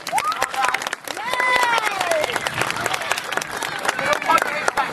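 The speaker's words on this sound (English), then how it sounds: "Give all the volunteers a big clap." An audience at an amusement park sea lion show claps for the volunteers, brisk crowd clapping mixed with cheers and excited voices, including higher children's calls, under a presenter's amplified talk.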